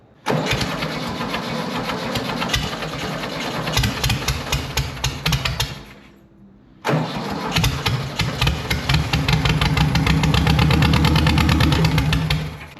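VW dune buggy engine cranking and catching, running rough for a few seconds, briefly cutting out, then restarting and revving louder with a steady mechanical clatter, close by.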